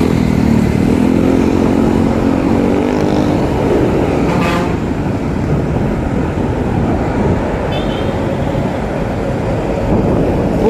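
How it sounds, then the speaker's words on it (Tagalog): Dense, loud road traffic heard up close from a bicycle commute to work, a steady roar of car and motorcycle engines with a passing horn toot in the middle, no talking over it. "Pagsabayan tayo sa dami ng sasakyan."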